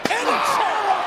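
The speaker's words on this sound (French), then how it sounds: "Et c'est là qu'il donnera un second coup de chaise encore plus violent que le premier." A wrestler smashes a steel chair down on an opponent in the ring, one sharp metallic slam followed by a ringing decay under a loud, roaring crowd.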